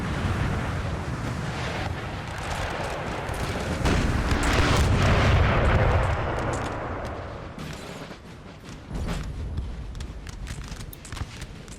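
Artillery in a Napoleon Total War battle: a rumbling mix of distant cannon booms and crackling musket volleys, swelling louder in the middle then easing, with scattered sharper reports toward the end and no talking.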